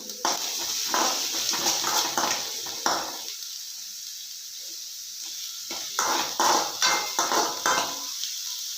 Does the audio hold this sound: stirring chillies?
yes